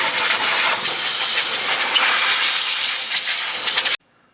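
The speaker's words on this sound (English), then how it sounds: "Blow some compressed air here because we want to take the spark plugs off" Compressed air hisses steadily and loudly around the spark plug area of a 1937 Chrysler engine, a continuous close blast that cuts off abruptly near the end.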